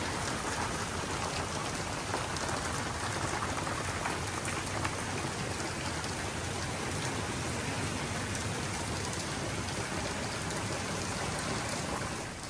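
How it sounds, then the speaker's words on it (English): Heavy rain pours down steadily over a garage sale weekend, a dense unbroken hiss of drops on surfaces that continues throughout with no voices. "and boy did it rain"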